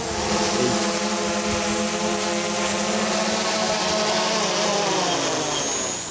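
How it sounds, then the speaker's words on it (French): A drone on a test flight at a film shoot flies nearby with a loud, steady buzzing whine of spinning propellers, its pitch shifting slightly as it hovers and moves. "Ben, merci pour ce petit vol d'essai pour Ciné-Astuces."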